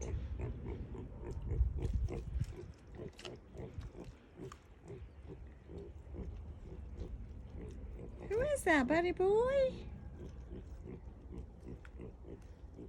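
Pigs oink and grunt nearby while a person talks over them, with a louder squealing call partway through.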